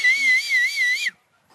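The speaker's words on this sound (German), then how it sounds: "nochmal die Pfeifkontrolle. Genau so." A person blows a whistle during a whistle check, a single steady shrill tone with slight warble held for about a second, loud and close, then cut off into near silence.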